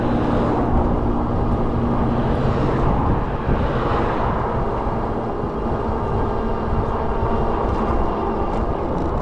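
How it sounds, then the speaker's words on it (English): Loud motorcycle passing nearby on a road through a wilderness park, heard from a moving e-bike; a continuous broadband engine roar with steady low rumble holds throughout under rushing wind. "Loud motorcycle."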